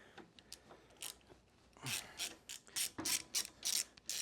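A 5/16 Allen wrench working the kickstand bolt on a Harley-Davidson M8 Softail, giving a series of close ratcheting clicks and metallic creaks in a steady rhythm, growing louder toward the end.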